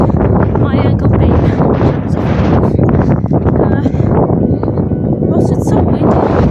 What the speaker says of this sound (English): Also, it's so windy.